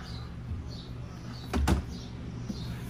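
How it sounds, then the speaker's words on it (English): A Samsung refrigerator's freezer door pulled open by its handle inside a 2020 Keystone Alpine AL3651RL fifth-wheel, giving a single brief, soft clunk midway through an otherwise quiet interior. "you just simply pull up on the handle a little bit and out towards you for access to the freezer"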